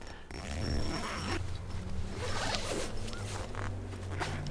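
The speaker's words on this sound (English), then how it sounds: "is it one of them really cheap zips? Oh yeah, it sounds cheap." Cheap zip on AliExpress camping gear tugged along its track, a close, rasping zipping that runs for several seconds in quick uneven pulls, with no talking.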